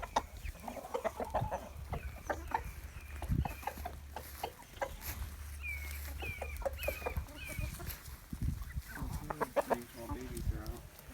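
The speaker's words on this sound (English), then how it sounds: "These are the baby black Marans." Young black Marans chickens cluck and chirp close by in a sick-chicken follow-up, with some rooster-like calls and scattered background noise.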